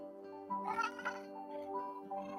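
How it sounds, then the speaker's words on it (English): A recorded cat meowing plays back over a livestream during a debate, sounding thin and tonal with a couple of rising meow-like swells under a steady background hum. "meow one. See if you guys can hear it."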